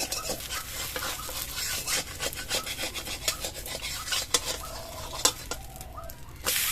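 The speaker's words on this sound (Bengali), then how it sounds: "পরোটাটা কিন্তু একদম লো আঁচে ভাজবো, নইলে অ্যালুমিনিয়ামের কড়া তো পুড়ে উঠবে কিন্তু।" A paneer besan paratha frying on low heat in an aluminium pan, a close steady sizzle mixed with scraping and rubbing of a spatula against the pan, no talk.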